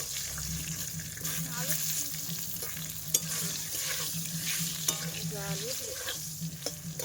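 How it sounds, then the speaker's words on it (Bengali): Brinjal slices frying in oil with salt and turmeric, a moderate crackling sizzle with occasional utensil knocks and faint water or background sounds underneath. "ফার্স্টে বেগুনগুলো ভেজে নেব লবণ হলুদ তেলে দিয়েছি"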